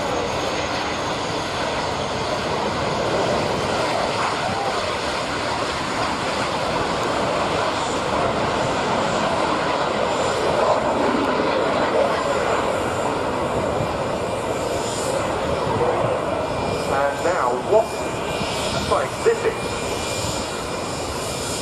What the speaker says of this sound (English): So, on the roll first, the Laurent Saunier MS-760 Tabby and the very distinctive detailed Cougar CM-175 jet ship.